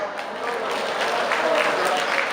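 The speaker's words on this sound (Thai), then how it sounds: "ทุกคนปรบมือด้วยครับ" A crowd claps steadily, a dense, even patter of applause filling the whole moment without pause.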